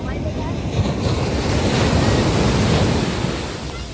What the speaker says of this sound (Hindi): लहरें इतनी बड़ी बड़ी है, आपको क्या बताऊँ।